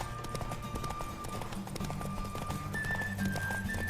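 Horse hooves clip-clop at a quick, steady rhythm in The Witcher 3 video game, close and clear, over sustained background tones.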